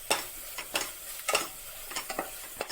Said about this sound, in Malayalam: അപ്പോൾ പൊടികളുടെ ഒരു റോസ് സ്മെല്ല് മാറുന്ന വരെ ഒന്ന് ഇളക്കി കൊടുക്കാം